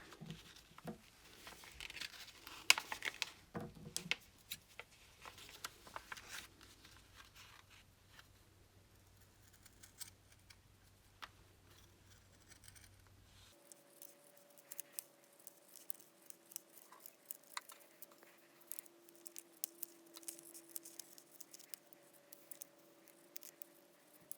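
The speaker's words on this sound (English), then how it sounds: "you're literally just going to cut along this one edge" Scissors snip along one edge of fabric being cut out from a template for an upcycled newborn hat, a string of quiet, close crisp cuts with small rustles, no voices.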